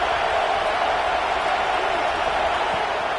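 A packed stadium crowd roars steadily in a college football video game, a dense, unbroken wall of cheering noise at close, loud level, sustained without pause.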